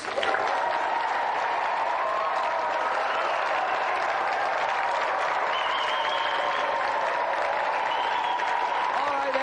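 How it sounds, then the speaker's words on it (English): Steady, dense applause from a large TV studio audience on GamesMaster, loud and sustained throughout, with a murmur of crowd noise beneath the clapping. "Round of applause for our 3 challengers"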